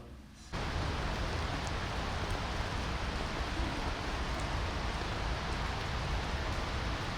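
Steady, dense rain hiss starts abruptly after half a second and stays even and loud throughout, with faint speech-like sounds barely surfacing beneath it.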